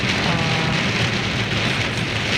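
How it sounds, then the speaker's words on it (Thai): Heavy summer-storm rain pounds steadily on a car while driving, a loud, dense, unbroken hiss and patter with low road rumble underneath and no talk. "ฝนก็จะตก หนักมากเลยสงสัยจะเป็น พายุฤดูร้อนอะไรสักอย่างเนี่ยนะ"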